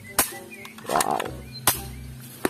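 A toy electric pistol fires several sharp snapping shots spaced apart, with a warbling electronic sweep between them, close and fairly loud over a steady low hum.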